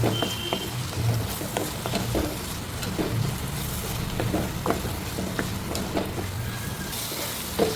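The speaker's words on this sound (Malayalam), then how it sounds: "ഇനി ഇതും ഒന്ന് നന്നായിട്ട് വഴറ്റിയെടുക്കുന്നുണ്ട്" Pre-cooked button mushrooms sauté in a hot pan with a steady close sizzle, broken by repeated scraping and stirring strokes of a spoon throughout, with no voices.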